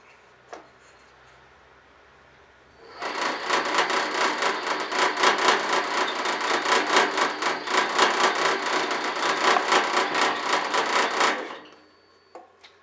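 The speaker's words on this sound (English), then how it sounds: "With your pilot hole drilled, you can remove the tape." A power drill bores a pilot hole through taped plastic footwell trim in a Kia Picanto, a loud continuous grinding whir lasting about eight seconds with steady pulsing texture before stopping abruptly, no voices.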